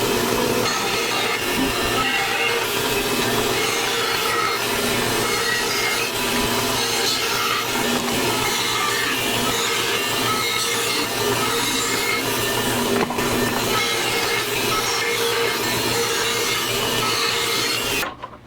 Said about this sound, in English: Now I need to cut off the corners to make it easier. I'm going to do that on the bandsaw.